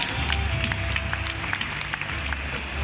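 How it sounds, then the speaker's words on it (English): Audience at a youth gymnastics cup event applauding young gymnasts; steady, dense clapping from a sizeable crowd fills the space at an even level throughout, with faint voices mixed in. "let's give a round of applause to our young gymnasts"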